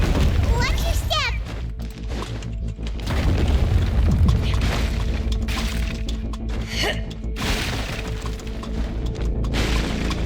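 In Genshin Impact, an unstable path in Fontaine collapses with a deep boom and shattering crunch, followed by rumbling debris amid game music, with a voice speaking over the noise.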